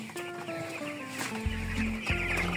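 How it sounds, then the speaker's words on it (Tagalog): Chickens cluck near a feed area, a few soft, repeated clucks over a low background hum and scattered farmyard noise, with no clear talk. "Tignan naman po natin yung manok."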